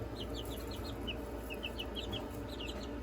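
Young bantam chicks cheep and cluck in quick, high little bursts, fairly faint against a low steady background hum.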